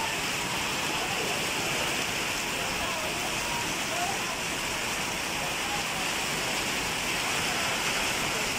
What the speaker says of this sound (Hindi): ये इतनी तेज बारिश हो रही है